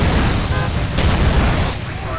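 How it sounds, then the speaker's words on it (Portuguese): Rumbling, noisy explosion effects from a modded GTA San Andreas, a broad booming wash that swells and fades across about two seconds, loud and close, with a brief burst near the middle. "Novos efeitos de explosão."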